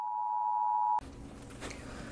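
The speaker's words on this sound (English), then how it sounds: "Sorry, that was my phone." A phone gives a single steady electronic beep lasting about a second, close and clear, then cuts off to quiet room tone during a crochet tutorial.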